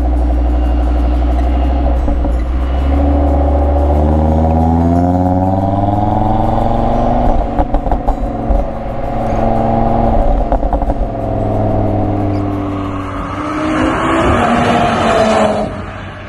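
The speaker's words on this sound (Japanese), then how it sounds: "で排気音に関しても今ダイナミックで走ってるんですけど、程よい心地よさ" Audi RS3 in dynamic drive mode giving a loud, continuous exhaust drone with rising and falling harmonic sweeps as it shifts through gears, building to a harder rasp near the end.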